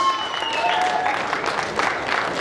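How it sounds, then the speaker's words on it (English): Applause rises from an audience at an Indian bodybuilding show as a new IFBB pro from India stands onstage with her mother, a steady wash of clapping with a few voices and cheers mixed in throughout. "applause?"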